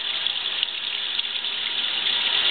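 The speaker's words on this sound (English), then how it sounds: "is the first water this machine has had in it" Water pours steadily into a 1954 Frigidaire washing machine, a continuous bright hiss and rush of filling water, close and fairly loud, heard alone without voices.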